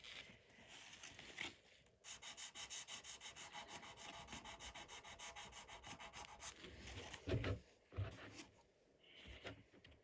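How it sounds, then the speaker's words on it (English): A 4B graphite pencil tip being sharpened gives a close, faint, rhythmic scraping and rasping, steady strokes repeating for several seconds with brief pauses. "come in with the 4B. Just want to sharpen the tip"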